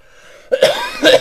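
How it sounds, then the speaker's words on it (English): Two harsh, close coughs in quick succession after a brief quiet moment, loud and raspy. "Sorry if I'm coughing so much."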